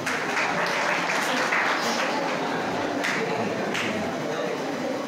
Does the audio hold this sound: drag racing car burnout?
no